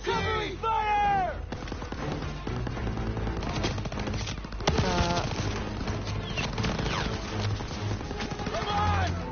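Machine gun and covering fire in the Call of Duty WWII campaign: loud, dense battlefield gunfire with rapid bursts and booming shots throughout, with shouted voices mixed in.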